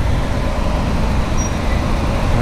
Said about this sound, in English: This truck, yep, it's gonna turn right in.